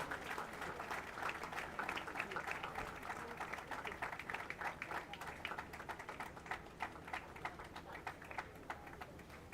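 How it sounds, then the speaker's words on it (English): An audience at a rowing nationals award ceremony in Sri Lanka applauds in a steady, sustained round of clapping, heard from a slight distance with a fairly even rhythm. "We have another round of applause for the Sri Lanka Army, winners of the men's open pair."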